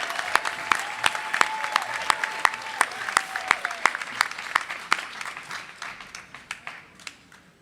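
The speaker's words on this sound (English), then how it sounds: "let's give a big round of applause for our second place winners" Scattered audience applause at a trivia challenge event for the second place team, a mix of sharp individual claps that thin out toward the end. A faint tone sounds briefly underneath.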